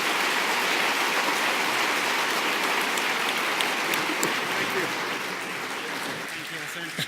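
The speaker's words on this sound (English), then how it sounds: "let's have one big round of applause for these great men" Broad, hissing applause from an audience at a leaders' dialogue event in Kigali, steady and loud before tapering off slightly toward the end.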